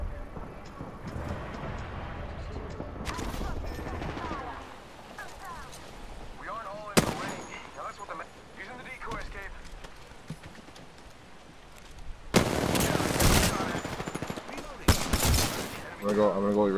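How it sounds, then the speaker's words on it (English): Enemy gunfire in Apex Legends arrives in repeated rapid bursts, with a few sharp single shots and a dense, loud volley near the end, mixed with game effects while players talk over it. "The enemies are shooting at me."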